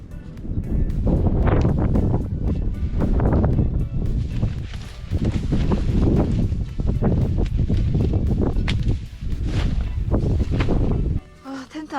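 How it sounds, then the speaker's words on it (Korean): Strong gusting wind on a mountainside at a solo backpacking campsite, loud buffeting roar battering the microphone in surges, with rustling and brief pauses near the end. "아 바람이 너무 많이 불고 있어요 지금"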